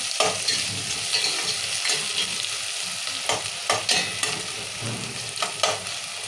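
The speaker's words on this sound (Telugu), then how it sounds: "ఒక 2 నిమిషాలు నూనెలో మగ్గించుకున్నాం." Onion, tomato and curry leaves fry in hot oil, giving a steady bright sizzle broken by several sharp spatula scrapes and stirs close by.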